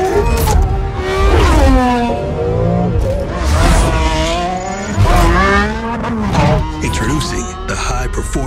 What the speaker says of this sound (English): Combine the sound of the engine with the light of a new beginning.